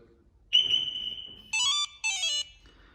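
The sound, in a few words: vehicle alarm system disarming tone from remote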